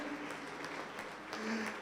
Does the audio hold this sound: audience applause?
yes